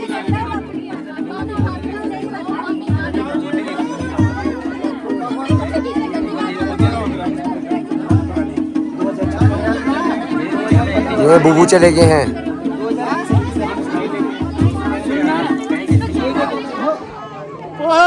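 Crowd chatter at a Pahadi-style wedding, a dense, steady babble of many voices close by, with a rhythmic low thumping underneath throughout.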